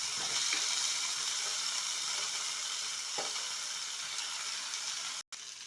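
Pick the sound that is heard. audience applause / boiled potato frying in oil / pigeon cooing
boiled potato frying in oil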